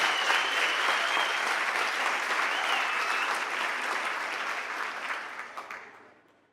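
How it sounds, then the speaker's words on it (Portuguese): Congregation applauding at a church baptism service, a full, sustained round of clapping from a large gathering that holds steady for several seconds, then tapers off and stops. "E dê um aplauso ao Messias."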